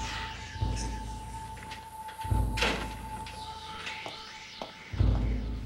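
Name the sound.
door being closed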